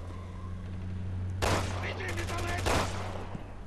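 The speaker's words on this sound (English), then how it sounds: "We're gonna have to shoot our way out." Gunfire in Resident Evil 6 gameplay, two loud clusters of rapid shots over a low game hum, the second burst longer, with a voice faintly present.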